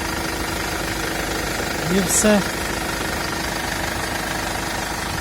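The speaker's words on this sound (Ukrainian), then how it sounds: "Дуже добре робить мотор." A Mercedes-Benz Sprinter 316 van with an automatic transmission and 357,000 km idles with a steady, even diesel drone and a faint knocking texture. A voice speaks briefly over it partway through.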